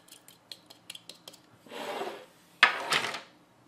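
A handheld sharpener grinds a DOMS Neon rubber-tipped graphite pencil, with a few light clicks first, then two close, gritty scraping passes, the second louder and harsher.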